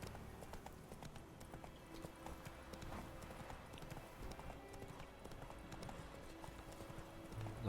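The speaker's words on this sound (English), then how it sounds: "The horse hooves is a soothing sound." Horse hooves clip-clop steadily at a walking pace on the ground in the video game The Witcher 3, a close and even rhythmic patter that continues for several seconds with a faint whinny.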